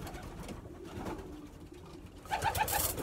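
Racing pigeons in a loft, soft bird calls and cooing under low background noise, with a brief burst of bird sound near the end.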